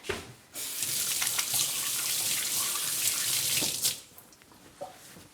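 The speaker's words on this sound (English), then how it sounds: "I'm gonna wash my hands really quickly." Tap water runs steadily into a sink as hands are washed beneath it, a close, continuous splashing rush that starts abruptly and then cuts back to a few faint drips.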